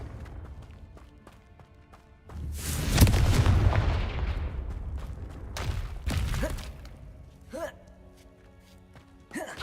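In Hogwarts Legacy, a Confringo blasting spell erupts in a loud, booming explosion with a long rumbling decay, followed by further impacts and crackles, with a voice speaking around it.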